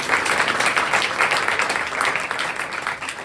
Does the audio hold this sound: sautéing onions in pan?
no